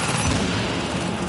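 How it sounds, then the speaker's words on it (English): Dense, continuous gunfire from The Division video game, a loud sustained barrage filling the whole moment with no pauses and no voices. "Reporting gunfire in the station above us."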